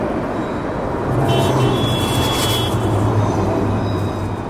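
Busy city traffic with a steady roar of cars and heavier vehicles, continuous and fairly loud, with a faint sustained horn-like tone partway through.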